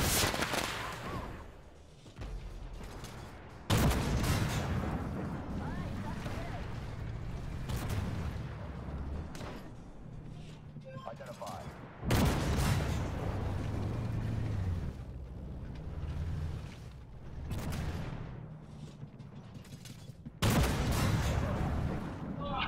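Tank cannon fire in an armored combat video game, three or four heavy booming shots spaced several seconds apart, with rumbling engine noise and gameplay sounds in between.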